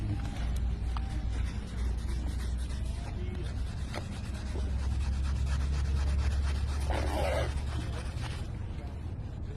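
A coin or fingernail rubs and scratches across a 100-rupee lottery scratch card in steady, close, gritty strokes, with a low hum underneath.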